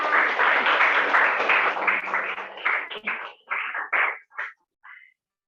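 An audience claps at a school learning-practice event, dense applause at first that thins into a few scattered, separate claps before stopping.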